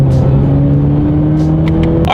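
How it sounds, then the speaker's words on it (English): A turbocharged 2019 Chevrolet Camaro accelerates hard, its engine drone rising steadily in pitch as it pulls, loud and close, with short shift-like breaks near the end and no talking. "let's do that acceleration and see how quickly we can get this 2019 Camaro up to speed."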